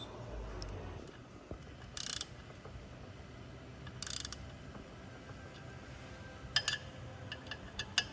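A wrench torques the pressure plate cover bolts on a clutch assembly to 25 foot-pounds, making faint, sparse ratchet clicks and a few metallic clinks over a low background hum in a garage, with no speech.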